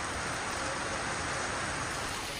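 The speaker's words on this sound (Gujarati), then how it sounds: "વહેલી સવારથી નગર સહિત તાલુકામાં વરસાદ વરસી રહ્યો છે." Early-morning rain falls over a town, giving a steady, even patter and hiss that carries on unbroken with no voices.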